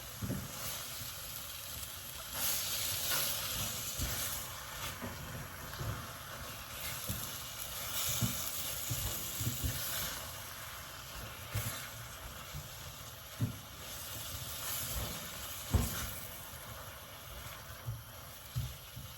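Home-made apple jam cooking in a pan while it is stirred, producing a steady bubbling hiss with soft scraping strokes and occasional spoon knocks, close and without speech.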